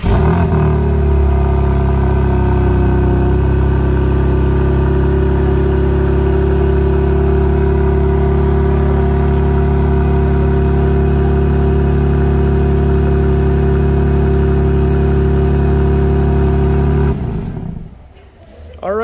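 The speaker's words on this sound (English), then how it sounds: "I can get the car to remote start and we can get a little bit of a cold start sound in here" A 2022 BMW M4 Competition M xDrive does a remote cold start in a showroom, its engine settling into a loud, steady, even idle hum for about seventeen seconds before cutting off.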